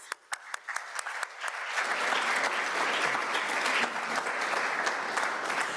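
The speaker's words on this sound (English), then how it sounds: "So we can give them a round of applause." An audience at a university natural resources undergraduate award and scholarship reception bursts into applause, a few scattered claps at first swelling into steady, full clapping from many people that carries on to the end.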